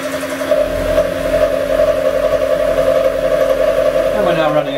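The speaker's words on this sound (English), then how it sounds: "I've got a piece of aluminium stock in here and a cutter, and we'll just run it." An Axminster SIEG SX3 mill with a power feed cuts aluminium stock, a steady loud motor whine and hum that holds even, then shifts in pitch near the end.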